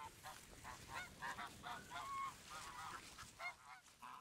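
Geese honk repeatedly in a lively, overlapping chorus, fairly close and moderately loud, with no talking.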